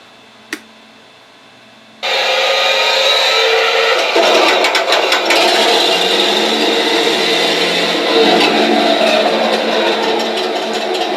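After a brief click and near silence, a heavy tank engine in a video game starts abruptly and keeps running loudly with a rough, rattling mechanical roar.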